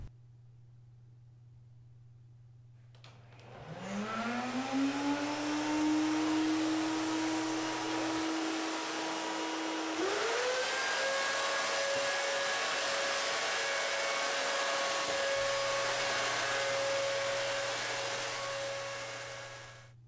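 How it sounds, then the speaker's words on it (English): A vacuum cleaner motor whirs up after a moment and runs steadily with a rising whine, then climbs in pitch again and keeps droning before fading at the end. "after having put the vacuum cleaner back together, the cleaning of the house can begin."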